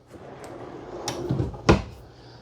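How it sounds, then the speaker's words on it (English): A large drawer in the rear kitchen of a 2024 Alta 2810KIK travel trailer slides and knocks shut with a couple of wooden thuds, close and clear, the last bump the loudest. "Pretty large drawer here."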